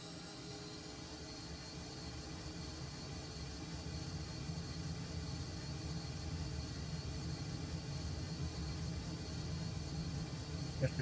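Cessna A-37 Dragonfly jet engines at takeoff power, a steady broad roaring whine with a faint high tone that builds slowly in loudness, heard from inside the cockpit with no voices.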